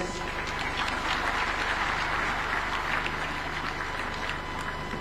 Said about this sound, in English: Another super applause for our host